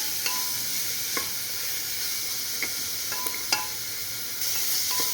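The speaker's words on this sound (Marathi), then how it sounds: "ते पण परतून घ्यायचं हे सगळं मीडियम फ्लेमवर करायचं" Onion and green chilli are sautéed over a medium flame in a pan for white pulao, giving a steady quiet sizzle with a few light taps and stirring clicks.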